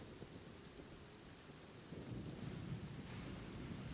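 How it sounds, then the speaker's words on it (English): Rain in the video game Genshin Impact, a soft continuous hiss of falling rain with a low rumbling wash that swells slightly midway, faint and steady with no voices. "La pluie s'est pas vraiment arrêtée, Paimon"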